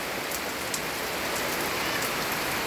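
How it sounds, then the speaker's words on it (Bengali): Heavy, dense rain falling steadily on surfaces, a constant hiss with scattered drops, no voices. "এত বৃষ্টি হয়েছে যে সারা রাত্র বৃষ্টি আর বৃষ্টি।"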